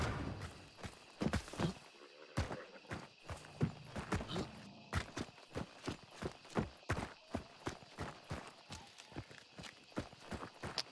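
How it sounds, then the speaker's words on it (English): A horse's hooves clip-clop in steady repeated beats in Hunt: Showdown, moderately close and continuing for several seconds, with brief faint movement noises between the footfalls. "It's a horse."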